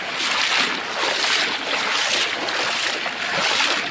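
Floodwater rushes loudly and continuously, a broad churning roar that swells and eases slightly without any pause.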